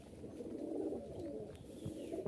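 Pigeons of a fancy breed coo in a low, steady murmur that runs throughout, fairly close and unbroken, with no one speaking.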